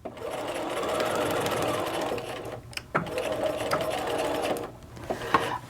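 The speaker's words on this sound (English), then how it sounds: "I'm going to back stitch at each end because we are going to be moving these pieces around" Sewing machine back-stitching a wrap skirt waistband, a steady close motor whir with brief pauses and restarts as the stitch direction reverses.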